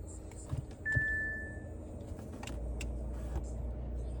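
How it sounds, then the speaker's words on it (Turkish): An Audi A4 B9 engine starts: a few clicks and a thin electronic tone come first, then a low, steady idle rumble settles in and carries on to the end. "aracı çalıştıralım"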